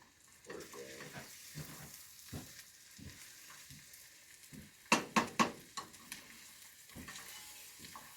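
Food sizzling in a frying pan as it is flipped and poked, with a steady low sizzle broken by scrapes and taps, then a quick run of three sharp clatters near the middle.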